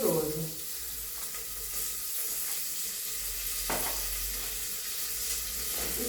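Beef fat sizzles and fries steadily in a pot of rice with oil, a continuous crackling hiss close by, broken by occasional scrapes and clinks of a spoon stirring against the bottom of the pan.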